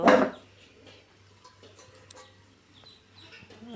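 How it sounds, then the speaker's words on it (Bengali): A chicken at a rural home clucks, a loud burst at the start followed by quieter scattered calls over a low background hum. "মুরগি"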